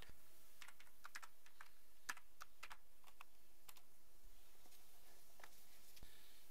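Typing on a computer keyboard: a quick, irregular run of sharp key clicks, close and crisp, with brief pauses between bursts and no voices.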